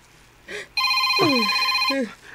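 A cellphone rings with a loud, close electronic ringtone that sounds for over a second, and a brief voice is heard just before it starts.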